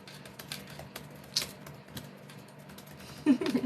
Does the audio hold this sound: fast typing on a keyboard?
yes